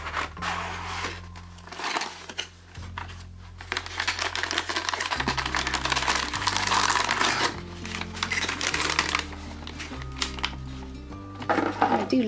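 A paper package of art supplies is torn open and unwrapped, with near, continuous crinkling and rustling that rises in intensity partway through and carries on with scattered crackles.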